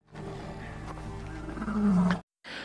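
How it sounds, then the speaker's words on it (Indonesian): A lion in a film gives a loud, close roar that builds to a deep, sustained peak lasting about two seconds, then breaks off into brief silence before another burst of sound begins. "Di tengah-tengah si singa mengkencam Ned"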